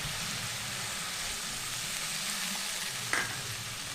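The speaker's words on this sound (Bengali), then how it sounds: "জল দিয়ে এটাকে ভালো করে কষিয়ে নেব।" Ground coriander and chili spice paste fries in a pan for a fish curry, a dense, even sizzle with a faint stir. A single sharp clink or splash stands out near the end, and no voices are heard.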